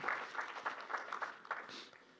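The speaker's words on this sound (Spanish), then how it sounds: "Hermanos, denle un fuerte aplauso al Señor" A church congregation claps in a short, uneven burst of applause, moderately distant and fading near the end, with a faint voice briefly rising over it.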